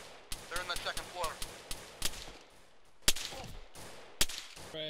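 Machine gun fire rattles in a large-scale Arma 3 team battle, with sharp, uneven bursts and single cracks at varying distances across five seconds. Voices talk and shout between the shots.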